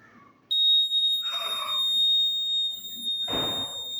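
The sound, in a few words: buzzer alarm sounding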